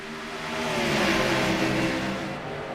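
Race cars in a Daytona racing video game roar back to full throttle on a restart, a loud, sustained engine drone with layered pitches that swells and holds steady without any talk.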